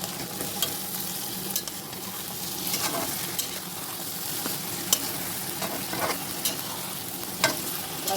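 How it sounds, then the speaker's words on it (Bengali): Meat for kacchi biryani fries in a pan with ginger, garlic and yogurt, giving a soft, continuous sizzle broken by irregular scraping and clicking strokes of the stirring spoon. "মাংসটা ভালো মতো ভাজা ভাজা হবে, যেহেতু এটা কাচ্চি মাংসটা বেশি যখন একটু ভাজা ভাজা হতে হয়।"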